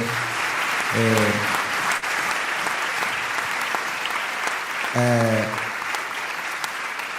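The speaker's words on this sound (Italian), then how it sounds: "tributerei un applauso a tutti i partecipanti" Audience applause at the closing event of a national choir competition, a continuous crowd of clapping hands heard throughout, with brief voices cutting in twice over the applause.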